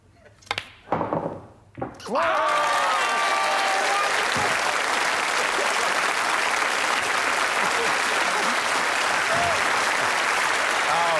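A television studio audience on a 1986 Christmas Eve variety show bursts into loud, sustained applause and cheering after a successful golf putt, preceded by a couple of short knocks and a rising whoop from the crowd.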